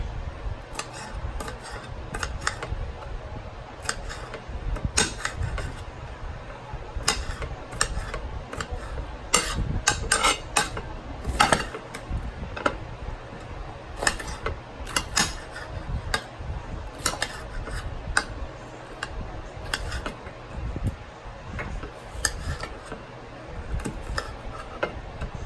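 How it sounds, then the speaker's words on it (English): Knife rough-chopping herbs and garlic on a cutting board for Spanish baked chicken, a long run of quick, irregular taps and thuds at close range, alone without talk. "I'm just doing rough chops"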